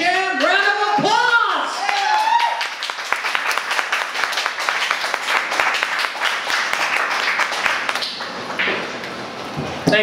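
An audience applauds a poet being introduced at a poetry performance night, a steady wash of clapping and cheering that runs throughout, with a voice speaking over the start.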